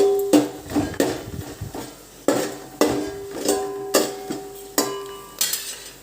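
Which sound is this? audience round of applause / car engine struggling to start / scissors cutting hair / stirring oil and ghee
stirring oil and ghee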